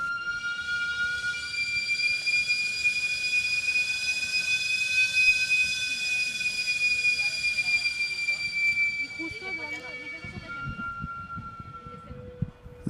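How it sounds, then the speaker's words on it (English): A sweet potato vendor's pressure steamer cart at night in Mexico City lets off a loud, sustained, piercing steam whistle lasting about nine seconds before it cuts off, followed by faint street noise. "when he opens this valve to release the pressure, it makes that crazy whistling sound"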